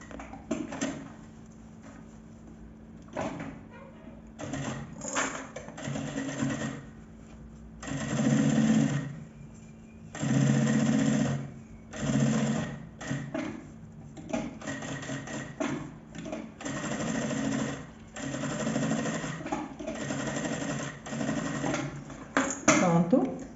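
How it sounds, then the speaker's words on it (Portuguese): Sewing machine running in repeated bursts of stitching as a handbag's main fabric is joined to its lining, loud and close, with a person talking between and over the runs. "vou fazer a costura de segurança unindo aqui o tecido"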